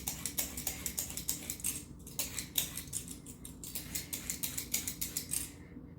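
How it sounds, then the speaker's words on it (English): A knife dices carrots and potatoes for potato soup, giving quick, crisp chops on a cutting board in brisk steady bursts with short pauses, close and fairly quiet, with no talk. "then I am going to dice them."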